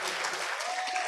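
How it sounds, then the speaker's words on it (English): Brief burst of crowd applause for speakers at a university computing club open house, dense and steady with faint voices mixed in. "one more round of applause for all of the amazing sub-org and hackathon leaders that spoke today"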